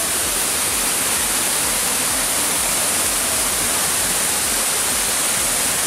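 Steady, dense rush of falling water filling the whole clip, constant and loud with no breaks, like a waterfall close by.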